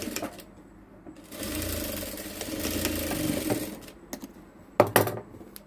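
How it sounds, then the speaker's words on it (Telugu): A sewing machine stitches a blouse front along a dotted line, running in one sustained whirring burst of several seconds, set between quieter handling clicks and rustles. "ఆ లైన్లో కూడా కుట్టేసుకోవాలి."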